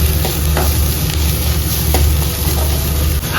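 Onions browning in a pan with turmeric and cumin powder, frying in a loud continuous sizzle close by, with stirring scrapes breaking through at intervals and no talk.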